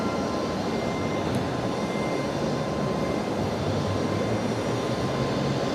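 A Qatari airliner taxis along a taxiway at Brisbane Airport, giving a steady, broadband jet engine rumble and hiss at moderate distance with no break.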